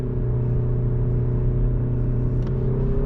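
Skoda Superb 2.0 TDI 190 HP diesel with DSG pulling at full throttle in second gear, a steady droning engine hum with road rumble heard from inside the cabin, moderately loud and constant.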